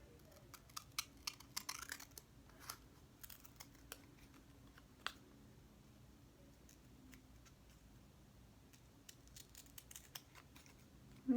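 Scissors snipping a paper bag, faint quick clicks and crisp cuts in irregular clusters, close and quiet with no talking.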